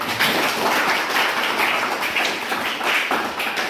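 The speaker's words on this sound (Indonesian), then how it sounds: "saya tepuk tangan" Hands clap in a classroom lesson, a busy, close run of overlapping slaps and taps that keeps a fairly loud, uneven rhythm throughout.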